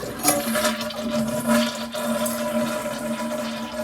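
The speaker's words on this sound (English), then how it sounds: "So let me flush this." An American Standard Cadet toilet from 2006 flushes loudly, a steady rushing swirl of water close to the listener that keeps churning for several seconds with no talking.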